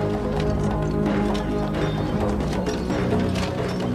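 Horses in a marching procession clip-clop with overlapping, uneven hoofbeats in a steady, moderately loud stream, with no talk over them.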